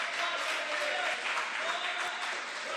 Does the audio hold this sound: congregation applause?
yes